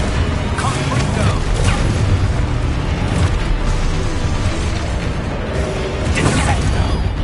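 Confringo blasting spell in the Hogwarts Legacy video game, loud booming bursts and crashes over dense continuous combat noise, with voices shouting throughout.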